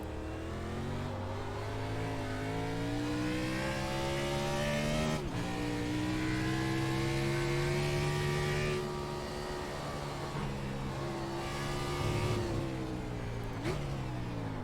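NASCAR Cup car in iRacing on the Daytona Road Course: a continuous, close engine roar whose pitch rises and falls, with abrupt drops as gears change.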